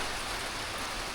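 Steady rain falling around an African traditional house, a dense, even hiss of drops that stays constant and fairly loud throughout with no voices.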